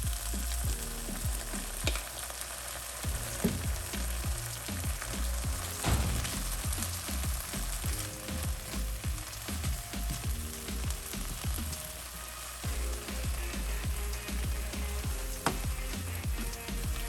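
Apples cook down in a pan with butter and maple syrup, giving a steady, close sizzle with soft bubbling and the occasional scrape of stirring, with no voices.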